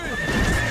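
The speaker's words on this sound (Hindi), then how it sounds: "चल मेरे घोड़े।" A cartoon horse neighs loudly in a short, continuous whinny, with a steady high tone held over rough, breathy body noise and no talking.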